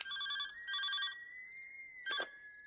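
A telephone ringing at midnight in a Telugu comedy film scene, faint electronic trilling bursts in a repeating pattern over a steady tone, with no voices.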